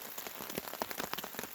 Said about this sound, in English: it's been a steady rain now for probably a good hour